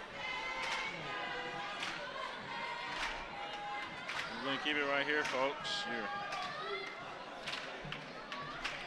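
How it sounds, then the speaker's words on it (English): Crowd at a high school basketball game cheering and yelling with stomping and clapping, under an announcer talking over the noise, with occasional sneaker squeaks and shouts rising midway. "some girls there just letting their voices be heard, stomping their feet, clapping their hands"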